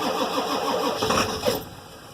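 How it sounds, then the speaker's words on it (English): A Ford Power Stroke diesel truck engine cranks on its starter with a rapid rhythmic chugging, close and loud, then surges briefly as if catching before easing off. "burn the starter right out of it"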